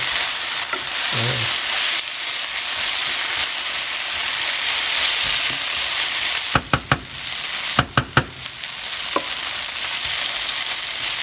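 Fava yellow split peas sizzle and fry steadily in a pan, a continuous close crackle broken by a few sharp knocks or stirs partway through.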